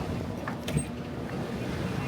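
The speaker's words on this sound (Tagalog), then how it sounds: "Lakas ng hangin. Nadidinig nyo pa sa camera." Strong wind buffets the microphone in a steady low rumble, with faint gusty whooshes rising and falling.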